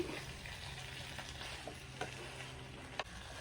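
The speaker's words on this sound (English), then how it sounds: "We're just gonna try to mix that together, get everything" String beans, potatoes and sausage are stirred in a frying pan, a faint steady sizzle with soft scraping strokes and a couple of light utensil clicks against the pan.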